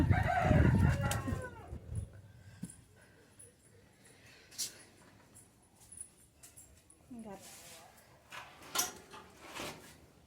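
A rooster crows loudly at the start, then chickens cluck intermittently with scattered bird calls and brief clatter in a quiet yard.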